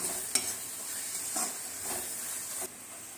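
Okra sautéed with salt, chilli powder and kuzhambu chilli powder in a pan for vendakkai pachadi, giving a steady hissing sizzle with a few stirring scrapes and clinks of the spoon against the pan.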